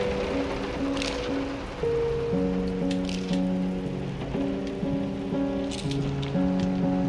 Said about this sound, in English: I like hearing that rain on the house.